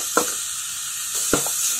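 Chopped onion and ginger frying in a little oil in a pan for soya bean manchurian, giving a steady close hiss broken by two brief clacks of a spoon.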